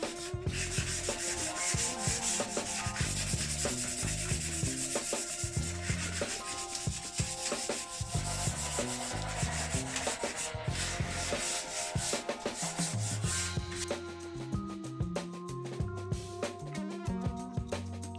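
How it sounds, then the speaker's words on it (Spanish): Wood bar hand sanded with 240-grit sandpaper, a steady rhythmic scratchy rubbing of back-and-forth strokes, close and continuous with no talk. "Voy a lijar con una lija de mano y la lija que voy a utilizar va a ser una lija de grano 240."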